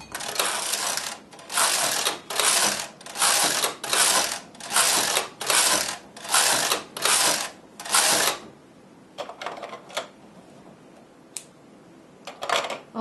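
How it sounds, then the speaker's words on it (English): A knitting machine carriage sweeping back and forth across scrap yarn, about nine rhythmic rasping clattering passes close by, followed by quieter scattered clicks and handling. "I'm going to use a scrap yarn and scrap off"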